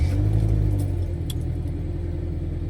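A car engine cranks and catches, settling into a steady low idle rumble close by, with a faint jingle of keys early on and no talking.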